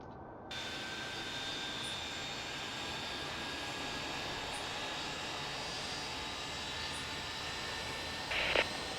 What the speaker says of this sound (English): Runway 23 right, cleared for immediate takeoff.